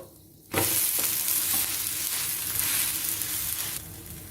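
Rava uttapam hits a hot pan over a medium flame and sizzles loudly all at once, a bright crackling hiss that holds steady, then eases slightly near the end.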